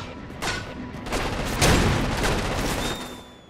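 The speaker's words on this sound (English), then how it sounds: "Cell has fired a flare." Enemy flare fired in Crackdown 2, heard among dense game combat noise: a broad whooshing burst swells in the middle of scattered gunfire-like cracks and booms, with a thin rising whistle near the end.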